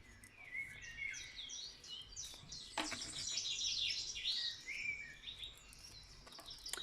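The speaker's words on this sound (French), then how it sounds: "J'espère que les oiseaux ne chantent pas trop fort pour vous" Several birds sing outdoors, overlapping chirps and warbling phrases at moderate distance over a soft background hum, continuous throughout with no talking.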